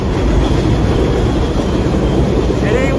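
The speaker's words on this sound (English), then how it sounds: "And the train." A subway train in the Bronx rumbles past close and loud with steady clattering wheels, filling the whole stretch.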